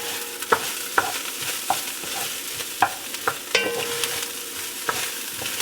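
Jasmine rice browning in a hot pan pops and crackles with scattered sharp snaps over a soft frying sizzle, moderately close and with no talk.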